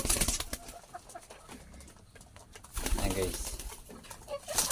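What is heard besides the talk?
pet pigeons cooing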